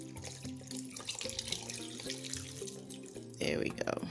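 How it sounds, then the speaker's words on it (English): Water runs from a tap into a saucepan of dried hibiscus flowers, a splashing, gurgling flow that continues throughout and grows louder and fuller near the end. "I'm going to add a little bit more water."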